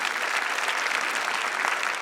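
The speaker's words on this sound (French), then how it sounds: "On va les applaudir bien fort s'il vous plaît." Sustained, even applause from the audience at a graduation ceremony for the class of 2024, a continuous wash of many hands clapping with no voices over it.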